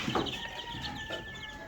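Young chickens on a poultry farm cluck softly in a brief, faint stretch of scattered calls over steady farm background.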